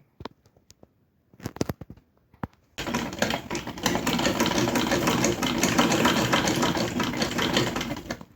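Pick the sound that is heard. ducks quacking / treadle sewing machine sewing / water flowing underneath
treadle sewing machine sewing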